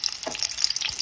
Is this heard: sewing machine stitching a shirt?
no